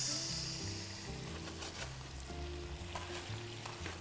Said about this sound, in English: So you can hear the music of the lobster cooking.